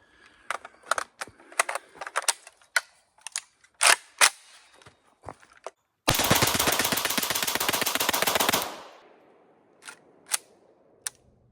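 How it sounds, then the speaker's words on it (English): VSKA rifle fired in a long continuous burst of rapid shots, preceded by scattered clicks and handling sounds and followed by a few more clicks, loud and close outdoors. "I'm gonna fire this just all the way through"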